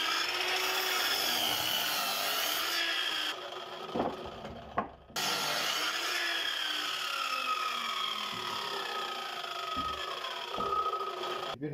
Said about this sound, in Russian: Бруски, которые будут располагаться по ширине, верхний и нижний, нам необходимо сразу выпилить в размер.